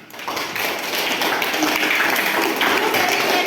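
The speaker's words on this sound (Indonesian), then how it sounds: "kasih aplaus dulu untuk Min" Students in a seventh-grade civics class at a junior high school applaud a classmate, a dense, fairly loud patter of clapping that swells quickly and holds steady in a room.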